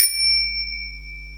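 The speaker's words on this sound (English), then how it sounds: "you have bicycle bells" A single bright bicycle bell ring, close and clear, strikes once and then rings on with a pure metallic tone that slowly fades.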